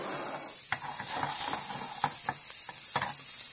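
Scallops fry in parsley butter in a pan, giving a steady close sizzle broken by sharp spattering pops and a few light clicks of a utensil.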